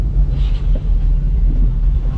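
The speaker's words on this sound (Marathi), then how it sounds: "फक्त ट्रॅफिक मुंबईमध्ये" Mumbai city road traffic heard from inside a taxi, a steady low rumble of engines and tyres with wind-like noise, loud and continuous throughout.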